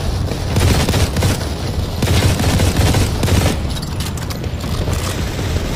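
Heavy suppressing gunfire in Modern Combat 4: Zero Hour, a loud continuous fusillade of rapid shots and booms filling the whole stretch with no pause.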